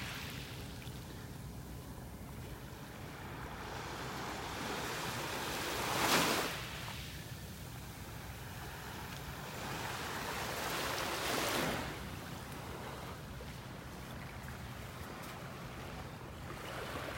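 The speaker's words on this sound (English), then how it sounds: "that barge that's pumping the sand" Beach surf rolls in steadily offshore of North Naples, Florida, where a barge pumps sand; a continuous low wash and wind fill the scene, with two brief louder swells breaking, and no voices present.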